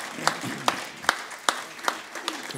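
At a Hindi poetry gathering, the audience gives scattered, loose applause in support, with distinct sharper claps standing out about every half second over a softer background of clapping.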